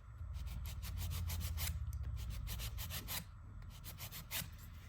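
Nail file rubbing and shaping across acrylic nails in steady, close strokes, a continuous dry scratching with brief repeated bursts over a low background hum, no talking.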